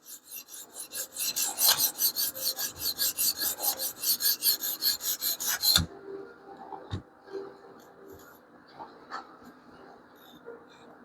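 A knife blade with a DLC coating is stroked on a sharpening stone in a fast, regular series of rasping scrapes, about twenty strokes, before stopping into quieter scattered clicks and handling noises.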